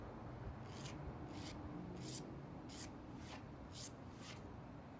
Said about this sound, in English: Any piece of metal like this, even the square, just a very light brush across it will clean that right up.